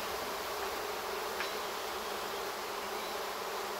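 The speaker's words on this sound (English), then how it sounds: "the whole garden was full of bees." A swarm of bees buzzes across a garden, a dense, continuous hum at steady moderate loudness with no voices, lasting several seconds.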